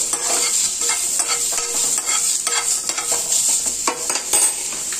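Onion and chopped green chillies frying and being stirred in a pan, a steady bright sizzle with repeated scraping strokes of the stirring utensil throughout, close and continuous with no voices.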